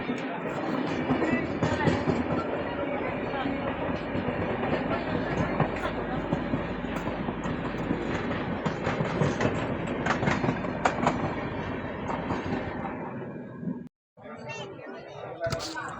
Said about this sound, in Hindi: अभी हमारी ट्रेन पहुंच रही है बीना जंक्शन रेलवे स्टेशन के प्लेटफॉर्म नंबर 3 पर